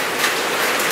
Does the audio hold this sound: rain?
yes